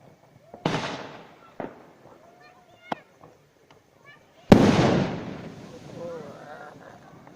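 Diwali firecrackers pop and crack at intervals, a few sharp bangs followed by one loud burst that rumbles away, with people talking in between.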